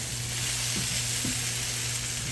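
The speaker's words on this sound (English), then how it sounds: "I put some oil in here and kind of just sauteed it until all of them kind of get that char on them" Meatballs sauté in hot oil in a pan, a steady close sizzle and crackle running the whole time with a few soft stirring scrapes and no talking.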